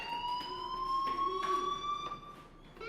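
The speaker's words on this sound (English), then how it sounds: "do you hear that fire alarm?" A steady electronic fire alarm tone rings continuously in the video game Life Is Strange, loud and close, with faint background noise and a few soft thuds underneath.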